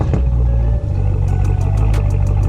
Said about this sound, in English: I'll go ahead and give you guys a nice little warm start